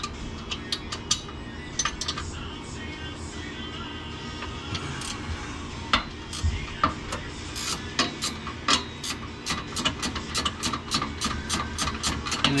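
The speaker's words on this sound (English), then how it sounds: "I'm about to unbolt the sway bar and hopefully get that last bolt out with a quickness" Sway bar bolt being worked loose on a car, likely with a ratchet, giving a long run of rapid ticking clicks that come faster and denser toward the end, over a low steady background hum.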